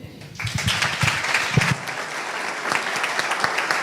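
Audience applause welcoming a speaker at a talk on Hispanic roots in the United States, with clapping swelling in after a brief quiet start and continuing as a steady mass of hand claps.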